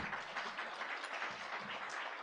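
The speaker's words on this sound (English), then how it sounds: "A round of applause" Audience applause at the close of a conference talk during a winter school session: a dense, even wash of many hands clapping, moderately loud and steady throughout, with no voices.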